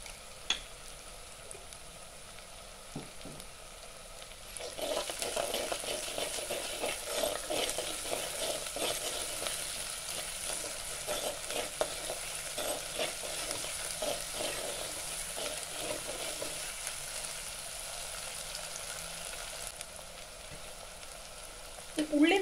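Onions sautéing in a pan for moru curry, a steady, fairly loud sizzle that rises after a few seconds and holds evenly, with faint clinks at the start and end.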